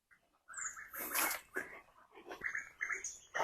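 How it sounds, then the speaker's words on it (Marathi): Assorted birds call around a quiet hilltop fort near Kelva, with short chirps and warbling notes coming in bursts over a hushed background. "आपल्याला इथे वेगवेगळ्या पक्ष्यांचे आवाज ऐकायला मिळतात"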